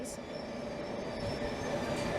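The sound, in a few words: London Underground Metropolitan line train passing through station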